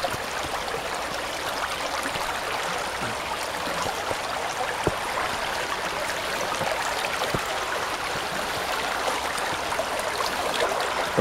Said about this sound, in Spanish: El río Tea.